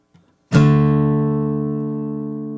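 A single power chord strummed once on guitar and left ringing, sustaining with a slow decay and no talk.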